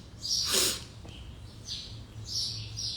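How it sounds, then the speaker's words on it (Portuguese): Several birds chirp and call outdoors at moderate distance, with a brief louder burst of calls early on and scattered tweets afterward over a low steady background hum. "aqui cheio de pássaros"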